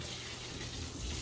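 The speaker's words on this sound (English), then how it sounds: "I'm gonna rinse off the sink." Water runs steadily from a kitchen tap while a sink is rinsed, a continuous close hiss and gush with no other sounds.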